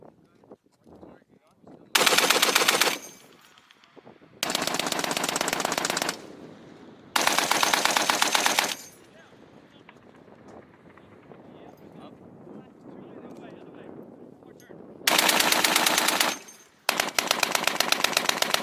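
A machine gun fires at a US Marine Corps regiment's annual training range, loud sustained bursts of rapid gunfire repeating with gaps, while people talk and wind buffets the microphone between bursts.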